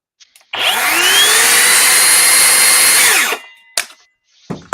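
A Ridgid brushless hammer drill running on a 2.5 battery gives a loud, steady whine that speeds up, holds for about three seconds, then winds down, followed by a few short clicks and knocks.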